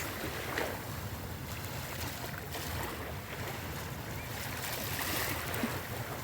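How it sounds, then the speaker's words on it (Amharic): Large boats out on open water in Dubai send up a steady wash of wind and waves, a constant broadband roar with no voices. "ሁላችሁ ጀልባዎቹ"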